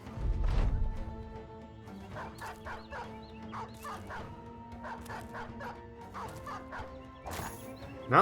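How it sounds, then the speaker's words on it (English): War dogs attacking enemies in the Battle Brothers video game, with repeated sharp barks, yelps and snarls in a busy rhythm over a quiet sustained musical drone, plus a heavy thud near the start. "this is the part where we just let the dogs try and tear them apart"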